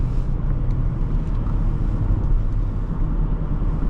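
A 1995 Lexus LS400 cruising on back roads, heard from inside as a steady, even low engine and road rumble with no breaks and no talking.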